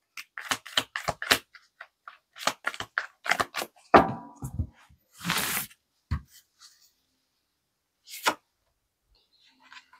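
Tarot advice cards being shuffled and handled: quick rapid clusters of crisp papery snaps and flicks, close and fairly quiet, with one longer riffling burst and scattered single taps after it.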